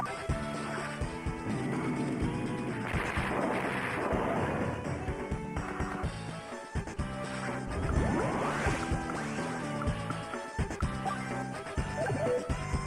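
Tanks attacking in the turn-based strategy game Advance Wars 2, loud crashing impacts and explosive bursts over game music, with a couple of heavier hits standing out.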